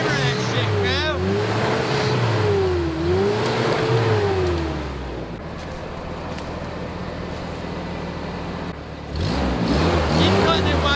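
A bobbed 1984 Toyota truck revs hard off-road while trying to climb over a log, its engine rising and falling in loud, sustained surges as the tires spin, with a brief quieter dip before another roaring burst.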